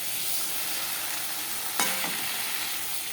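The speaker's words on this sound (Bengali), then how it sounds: "আর এখানে যে মাছটা ভাজা হচ্ছে" Fish fries in a pan, a steady soft sizzle throughout with one brief sharp clink of a utensil partway through.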